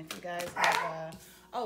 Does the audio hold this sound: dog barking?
yes